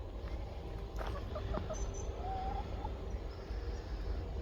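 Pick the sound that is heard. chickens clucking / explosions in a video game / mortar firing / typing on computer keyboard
chickens clucking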